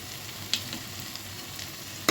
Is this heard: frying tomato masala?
yes